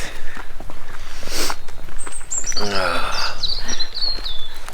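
Birds chirp in short, scattered high tweets over steady outdoor background noise, with a few soft thuds like footsteps nearby.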